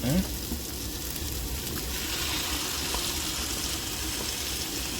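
Marinated chicken sizzles steadily in a pan inside a truck, a faint continuous hiss and crackle with a soft clatter at the start.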